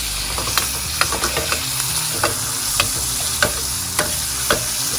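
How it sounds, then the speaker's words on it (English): A T-bone steak sears loudly in a hot pan after being flipped, giving a steady close sizzle broken by sharp crackles and scraping, with no talking. "So now let's finish this steak. Flip it over."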